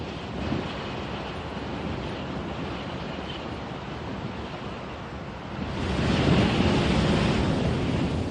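Strong Force 8 wind roars over crashing sea waves blowing spray off the crests, a constant rushing wash that surges louder toward the end.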